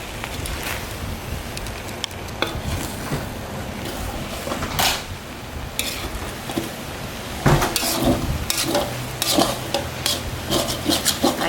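Beef and vegetable fried rice stirred in a wok, a continuous scraping, sizzling rustle with frequent clanks and scrapes of the utensil against the metal, busier and louder toward the end.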